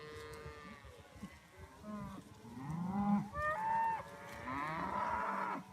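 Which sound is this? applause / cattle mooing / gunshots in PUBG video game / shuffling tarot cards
cattle mooing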